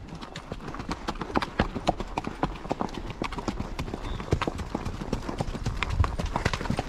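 A young horse being trained and ridden produces rapid, steady hoof clip-clops throughout, close and fairly clear over a soft background.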